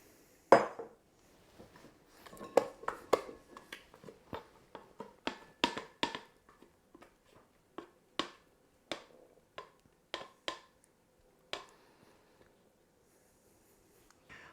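A bowl is set out and handled in a home kitchen, giving a string of sharp, close clicks and light taps at uneven intervals with quiet gaps between them.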